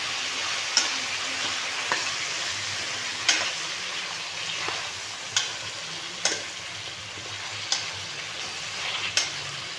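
Thick-cut brinjal pieces frying in a pan, a moderate steady sizzle punctuated by sharp periodic taps and scrapes of a spatula stirring, with no voices.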